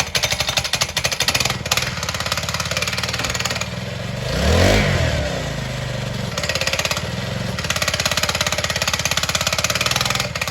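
A tiny kid's motorcycle engine running at a rapid, buzzy idle close by, with one clear rev rising and falling in the middle before it settles back to a steady putter.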